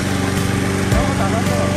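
A small remote control track crawler lawn mower's engine runs at a steady, loud buzzing drone, with a voice speaking over it.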